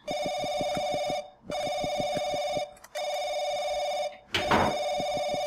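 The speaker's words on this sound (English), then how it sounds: "Is that a phone?" Telephone ringing inside the horror video game Paranoiac, a loud electronic bell trilling in three long bursts with short gaps, followed by a brief noisy clatter near the end.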